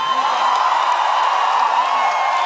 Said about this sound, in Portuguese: Uma salva de palmas para a Coruja BC1.